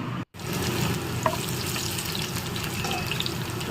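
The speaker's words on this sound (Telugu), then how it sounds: "తోటకూర కర్రీకి పోపు పెట్టేసాను" Tempering spluttering in hot oil for an amaranth leaf curry, a steady close sizzle with scattered small pops and crackles, briefly cut near the start and otherwise continuous throughout.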